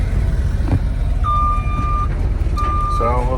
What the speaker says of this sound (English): Driving this little 64 F600.